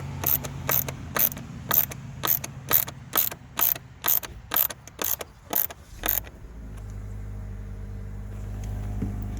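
A ratchet snugs screws into the plastic front grill of a 2015 Subaru WRX, giving about a dozen quick, sharp clicking bursts in a steady rhythm, close and clear, then stopping, leaving a low hum.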